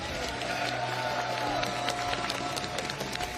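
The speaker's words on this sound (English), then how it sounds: "everybody, round of applause for Taco Dot!" Crowd at the Arc World Tour Finals 2023 fighting-game tournament applauds and cheers for a player: steady, dense clapping mixed with shouts, heard at a distance and sustained throughout.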